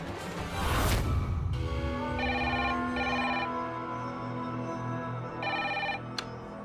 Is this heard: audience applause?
no